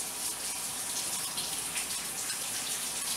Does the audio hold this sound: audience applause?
no